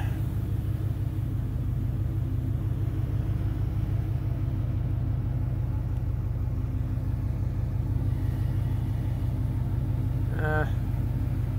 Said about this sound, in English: I just took my 40-year-old car through the muds looking for junkyard parts